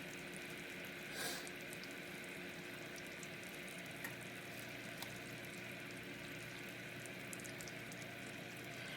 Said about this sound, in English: Once your butter's melted, it's going to start to sizzle a pretty good clip